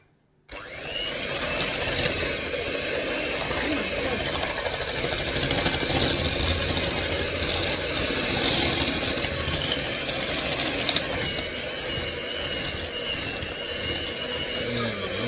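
An electric mixer whirring steadily through cupcake batter of flour and cocoa, loud and close with a constant motor drone that starts abruptly and runs unbroken to the end.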